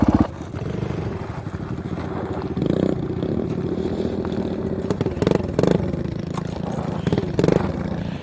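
Mini bike engine droning steadily as the rider climbs a hill in the Arizona desert, loud and close, with brief throttle surges and clattering bumps along the way.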